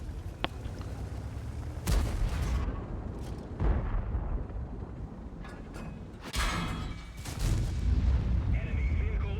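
Tank destroyed in a tank battle video game (World of Tanks style, a Char being knocked out), with heavy booming blasts and gunfire at irregular intervals, loud and close, rumbling low-end throughout.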